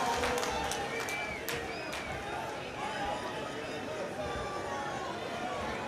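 Crowd at an outdoor Congress party public rally in Delhi, with sustained broadband applause and cheering forming a dense, steady wash of noise, some whistles rising above it, at a roughly even loudness throughout.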